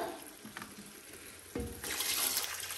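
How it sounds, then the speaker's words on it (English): Water is poured into a pot of soup during home dinner cooking, a steady liquid pour that swells louder partway through and runs on with no talking. "all I need to do is just to add some water."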